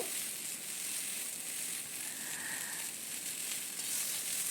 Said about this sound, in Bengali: এবার আমি কেটে রাখা করলাগুলো ভেজে নেব